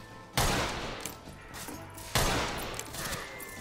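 Gunfire in a video game, with two loud, sharp bursts a couple of seconds apart, each trailing off into a ringing tail.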